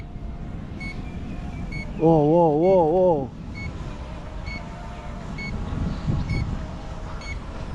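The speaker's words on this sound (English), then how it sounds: "You just hear a beep" A warbling electronic beep from an RG 700Pro GPS drone returning home rises and falls for about a second amid steady wind and outdoor noise, with a person exclaiming briefly.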